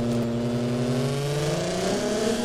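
Taxi engine from the driving game Taxi Simulator Evolution, a steady mid-pitched drone that climbs smoothly in pitch as the car accelerates, loud and continuous with no talk.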